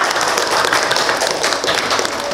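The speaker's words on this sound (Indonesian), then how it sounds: "Boleh beri tepuk tangan yang meriah?" Audience applause at a school quiz competition, a dense, steady wash of many hands clapping at once that fills the whole clip without a break or voices.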